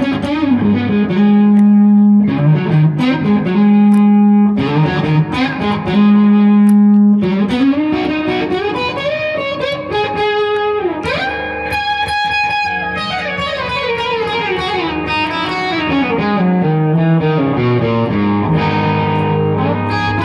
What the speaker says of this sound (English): let's check it out with just the amp cranked with no pedals in front of it